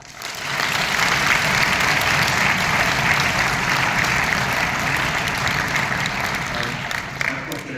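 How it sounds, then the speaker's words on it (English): Steady, dense applause from a concert audience for a choir at a Baroque music event, a full room of clapping that holds at an even level throughout and fades slightly at the very end. "I wanted to ask for one more round of applause for our wonderful choir"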